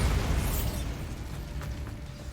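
An Incendio fire spell blasts a barricade in Hogwarts Legacy, a loud burst that trails off into rumbling debris and a few small clatters.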